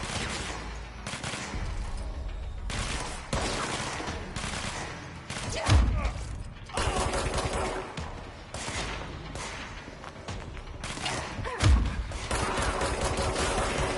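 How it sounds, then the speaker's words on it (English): Gunfire in the action video game Control: repeated bursts of shots and rattling fire over a steady noisy backdrop for much of the stretch, with a couple of heavy thuds and some indistinct voice underneath. "Who's shooting?"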